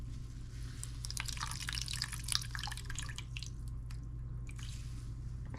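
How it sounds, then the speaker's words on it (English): Faint water drips and squishes steadily, as from a wet cloth being wrung out, over a low background hum with no talking. "Just squeeze the water out of it."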